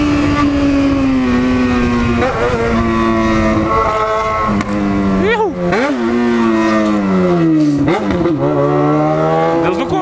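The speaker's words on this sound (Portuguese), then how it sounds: "O escape tava vazando o ar, tava fazendo barulho xoxo." A Yamaha XJ6 motorcycle with a cracked, leaking exhaust revs and shifts through gears, its loud raspy engine note climbing and dropping repeatedly in sweeping pulls, close to the microphone.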